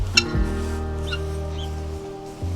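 A guinea fowl on a farm gives a loud, close call: a sharp opening note, then a sustained harsh tone lasting about two seconds that ends abruptly.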